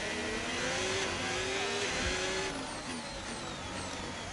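A race car's internal combustion engine, worn and meant to be kept at low revs, roars and revs in a racing video game, with rising and falling gear-shift whines sounding close and loud, alone without talk.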